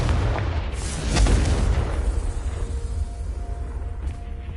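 A Confringo blasting spell effect from a wizarding-world game: a loud, deep explosive boom with a rumbling low-end tail that slowly fades, heard alone without voices.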